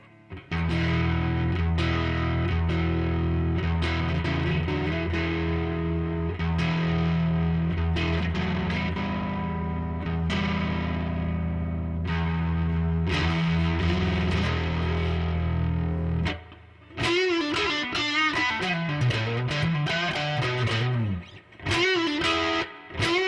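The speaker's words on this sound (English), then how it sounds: "it's a very pleasant distortion sound that has enough edge and dynamics to it" Distorted electric guitar through a Catalinbread Teaser Stallion distortion pedal playing sustained chords, then shifting to a gritty, bending lead line with a thick, saturated edge.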